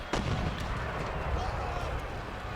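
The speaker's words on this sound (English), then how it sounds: "Is mortar still firing?" Mortar artillery in the Empire: Total War battle booms heavily, a loud deep blast at the start followed by a dense, continuous rumble of battlefield gunfire.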